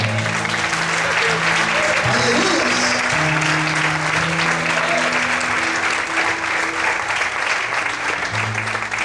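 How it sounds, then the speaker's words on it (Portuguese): A church congregation applauds in sustained, dense clapping, with shouts of praise and sustained musical tones under it throughout. "Quantos podem aplaudir o Senhor?"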